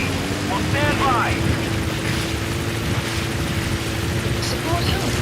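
Support helicopter in Metal Gear Solid V arriving at the landing zone, a steady rotor drone running throughout under a constant hum, with brief radio-style voice chatter.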